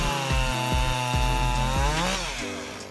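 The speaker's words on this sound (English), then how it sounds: "this chainsaw easily tackles demanding jobs" A Homelite Super XL chainsaw with a 58cc engine cutting wood, a loud, steady motor whine that pulses and then rises in pitch as the blade frees near the end.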